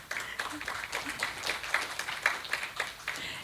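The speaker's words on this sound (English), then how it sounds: "yes, clap for them" A scattering of hand claps from a small group, steady and fairly quick, moderately loud with a light room echo.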